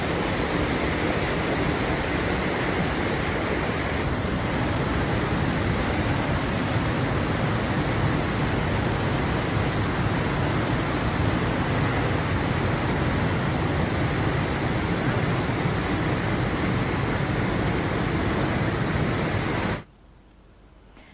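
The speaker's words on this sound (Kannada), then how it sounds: "ಸೇತುವೆ ಮೇಲೆ 2 ಅಡಿ ನೀರು ಹರಿತಾ ಇದೆ" Floodwater after heavy rain in Karnataka rushes over a bridge about two feet deep, a loud, unbroken broadband roar that cuts off abruptly near the end.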